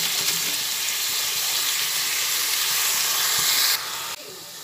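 Cabbage pieces sizzle in hot oil in a frying pan with green chillies, a steady close hiss of frying that drops away sharply near the end.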